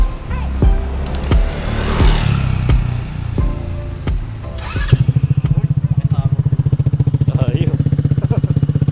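A Rusi RFI-175 motorcycle fitted with its rusty stock muffler runs loud and close, with a voice heard over the engine early on before it drops into a fast, steady thumping exhaust pulse.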